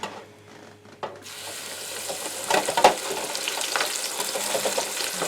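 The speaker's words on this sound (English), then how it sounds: "let's lower it into the hot oil." Cap'n Crunch coated shrimp on a stick are lowered in a basket into hot oil, which bursts into a loud, steady bubbling sizzle after a quiet start, close and without talk.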